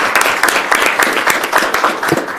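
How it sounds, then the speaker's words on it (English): Applause at a school board meeting: a modest group claps in a loose, uneven rhythm, individual hand claps distinct and fairly close. "So we can give you a round of applause."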